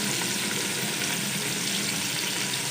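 Beef with four finely chopped green chillies frying over golden onions in a pot for degi yakhni beef pulao, a steady, dense sizzle that holds evenly throughout with no voices.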